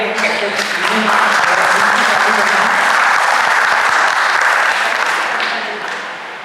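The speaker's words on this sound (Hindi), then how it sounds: "एक बार ताली बजा के" Audience applause after a talk on poverty and development in India, a loud, dense round of clapping that holds steady and then begins to fade toward the end.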